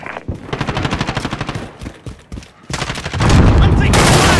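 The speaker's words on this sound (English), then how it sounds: "I'm taking fire!" Rapid automatic gunfire from a firefight in Call of Duty: Modern Warfare, bursts of close, loud shots rattling in fast rhythm, pausing briefly, then surging into a dense, heavy volley at the end.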